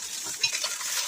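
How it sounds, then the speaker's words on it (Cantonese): Blanched pork bones and ginger slices frying in hot oil in a wok over high heat, a bright continuous sizzle with light stirring scrapes, close and alone. "加入已飛水嘅豬骨，面煎香2分鐘"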